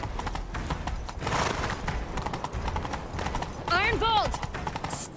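Galloping horse hooves in The Witcher 3 pound in a fast, steady rhythm close up, with a neigh breaking in near the end and voices talking over the ride.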